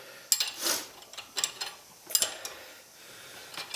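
Wrenches working loose the brake caliper bolts on a 2011 Chevrolet Malibu during a wheel bearing hub replacement, a few sharp metallic clanks and scrapes in uneven bursts, close and moderately loud.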